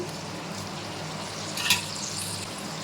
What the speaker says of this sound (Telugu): ఈ స్టేజ్లో చిల్లీస్ యాడ్ చేసుకోండి కరివేపాకు కొంచెం